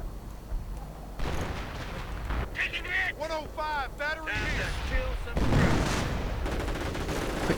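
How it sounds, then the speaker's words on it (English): Artillery shells fire and burst in a World War II real-time strategy game, with loud booming blasts and rumbling impacts layered among other battle effects, continuous through the clip. "Firing in more artillery, and there we go, the MG's retreated"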